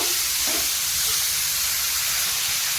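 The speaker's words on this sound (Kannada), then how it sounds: "ಈರುಳ್ಳಿ ಸ್ವಲ್ಪ ಫ್ರೈ ಆದಮೇಲೆ ಒಂದು ಟೊಮೆಟೊ ಹಾಕ್ತಾ ಇದ್ದೀನಿ ಇದು ಕೂಡ ಈಗ ಫ್ರೈ ಆಗಬೇಕು" Chopped onion and tomato fry in a pan, giving a loud, close, continuous hiss and sizzle that holds steady throughout; no voices.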